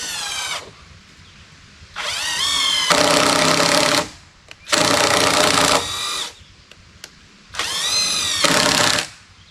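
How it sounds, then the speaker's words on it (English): A power drill drives a screw into a post of a sawmill lean-to in three loud, close whirring bursts of a few seconds each, the motor's pitch climbing and straining as it runs, with quiet gaps between. "then I'm going to put the screw in the bottom there"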